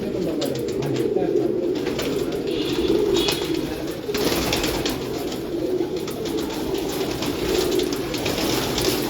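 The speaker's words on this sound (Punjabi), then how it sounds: "ਜਿਸ ਤਰ੍ਹਾਂ ਉਹ ਬਾਹਰ ਕਬੂਤਰੀ ਬੈਠੀ ਪਿੱਛੇ ਉਹ ਕਬੂਤਰ ਬੈਠਾ ਬਾਹਰ" Rooftop pigeons coo repeatedly in soft, rolling phrases against steady outdoor background noise, and a voice talks faintly in places.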